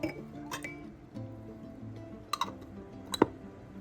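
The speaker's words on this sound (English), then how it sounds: "So now I'm just putting on my lids." Metal lids are set on glass canning jars one after another, giving a few light clinks and ticks close by against a quiet room, with faint background sound between them.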